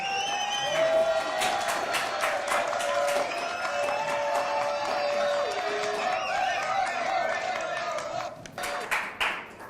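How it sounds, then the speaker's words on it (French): Studio audience applause on a television talk show, light scattered clapping with some crowd noise and a sustained musical tone running beneath, thinning out near the end. "applaudissements s'il vous plaît"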